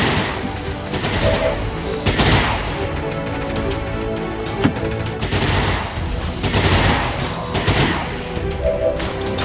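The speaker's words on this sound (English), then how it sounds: "Let's suppress him." Sustained suppressing gunfire in XCOM 2, loud continuous automatic bursts and booming impacts filling the whole stretch, with brief louder swells every couple of seconds.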